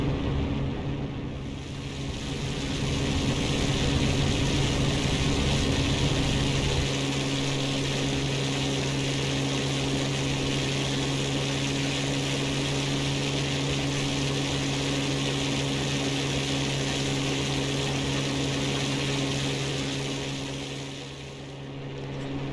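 Supermarine Spitfire propeller fighter from the X-Plane 11 flight simulator taking off over Scotland, a steady droning engine roar with strong tonal hum that stays loud and constant, easing slightly at the start and fading near the end, with no voices.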